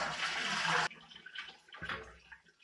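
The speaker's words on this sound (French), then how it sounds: "Tu appuies sur la chasse d'eau pour vider l'eau dedans." A loud rushing gush of water for under a second, then cuts off, leaving quieter trickling and gurgling as the bowl refills.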